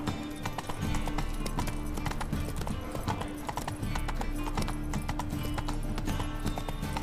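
Rapid, steady hoofbeats of a horse galloping in The Witcher 3 video game, a dense clip-clop rhythm running throughout over game ambience, with a faint whinny and a hint of background voice.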